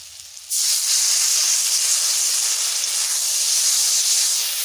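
Water splashes into a hot kadai, setting off a sudden loud, sustained hiss of steam that starts abruptly and holds steady for several seconds.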